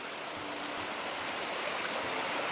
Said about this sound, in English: That cum up there and all the water rushing down.